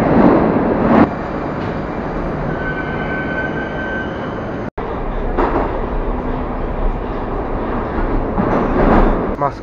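A Moscow metro train rumbles loudly and continuously from up close, with a steady roar, whining tones and faint squeals, while someone talks over it in short bursts.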